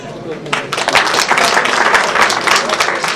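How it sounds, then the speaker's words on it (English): An audience at an annual day school event applauds as a teacher comes on stage, dense clapping swelling quickly and holding steady, loud and close, with crowd murmur mixed in. "Let's have a big round of applause for him."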